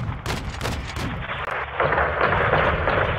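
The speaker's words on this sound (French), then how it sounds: "Il tire des roquettes depuis le château." Battle sounds from Call of Duty: Modern Warfare 2, in the Las Almas mission, as rockets are fired from a water tower: a rapid string of loud, close, booming shots followed by a sustained roaring rush of explosive noise.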